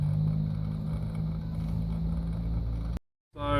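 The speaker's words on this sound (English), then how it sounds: "This is just the ignition on." A Toyota Hiace van with a 1KD-FTV diesel engine and the ignition switched on, giving a steady low hum and drone for about three seconds, then a brief silence and a return of the sound.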